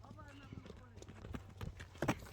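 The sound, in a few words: horse hooves clip-clopping, mare and foal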